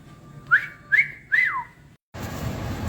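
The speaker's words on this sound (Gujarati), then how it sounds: "અને હવે સીટી મારી દઈશ 3 જેવી" A pressure cooker whistles three times in quick succession over a steady high tone while cooking tusker (cluster bean) curry. The shrill bursts are close and loud, then cut to silence before a low rumbling background.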